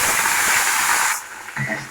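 Dried red chillies and whole cumin seeds hit hot oil in a wok with a loud, bright hiss that cuts off abruptly, followed by quieter crackling and a brief bump.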